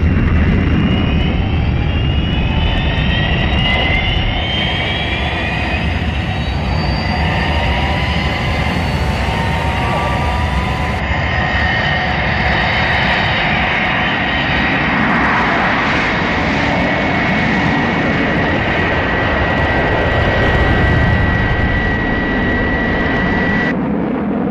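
Fireflash jet airliner from Lego Thunderbirds taking off at full power: a loud, continuous jet engine roar with rising whine tones, sustained for the whole stretch and heard alone.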